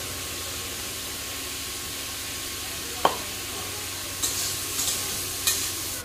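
Turmeric, salt and spice paste going into a frying curry and stirred, a steady sizzle underneath with one sharp utensil knock and several lighter scraping stirs toward the end.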